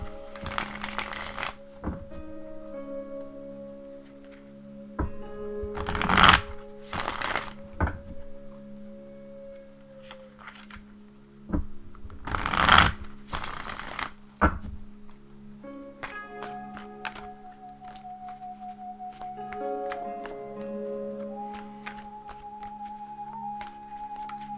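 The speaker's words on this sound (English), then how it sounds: "One moment, please, while I shuffle." Cards being shuffled in quick, crisp riffles and bursts, with pauses and soft handling noises between them, close and fairly quiet.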